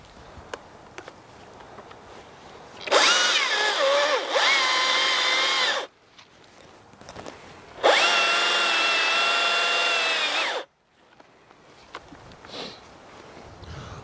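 A chainsaw cuts a felling notch in a tree, roaring loud in two sustained bursts of about three seconds each, separated by a pause with quieter idling and handling between.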